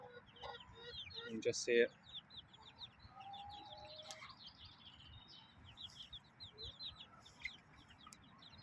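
Chickens cluck and a cockerel calls among his chicks in a backyard flock at an off-grid UK smallholding, with soft chirps and peeps scattered throughout and a louder burst of calls near the start, under brief talk.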